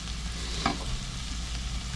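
A spoon scrapes and stirs a sticky, drying sugar mixture against the bottom of a cocotte, a steady close sizzling scrape with one brief louder stroke.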